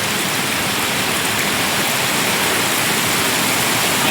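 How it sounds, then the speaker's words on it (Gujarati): Heavy monsoon rain in Patdi taluka, Gujarat, a dense, loud and unbroken roar of downpour on surfaces, close by and steady throughout with no voices. "એને વરસાદ તો વધતો જ જાય છે"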